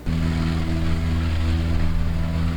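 A light propeller plane takes off at full throttle on the runway, a loud steady engine and propeller drone that starts abruptly and holds close and strong throughout.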